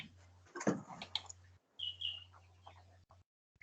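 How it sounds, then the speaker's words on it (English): A bird chirps faintly in the background of a call with many participants, with a few short high tweets mixed among low murmurs and a steady hum. "Somebody's got a bird in the background."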